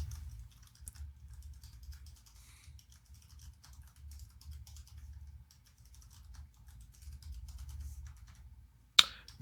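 Steady, fairly quiet typing on a computer keyboard, with irregular soft keystrokes over low room hum, ending in a couple of sharper louder clicks.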